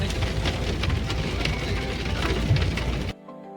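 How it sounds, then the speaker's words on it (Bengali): Rain mixed with falling snow in Pahalgam, Kashmir, recorded outdoors as a steady, dense wash of patter that runs for about three seconds, then cuts off abruptly to near silence. "বৃষ্টির সাথে কিন্তু বরফ পড়ছে পুরো"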